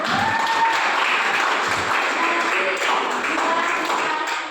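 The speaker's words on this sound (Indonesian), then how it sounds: "Beri tepuk tangan" Classmates clap their hands together in a classroom, a brief burst of scattered claps close by, fading out toward the end.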